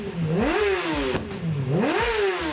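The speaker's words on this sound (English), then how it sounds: "We got the bike cranked up." A Yamaha R6 motorcycle engine revs hard twice, each time climbing to a high-pitched wail before dropping back to a rough idle. It is close and loud, with no talking.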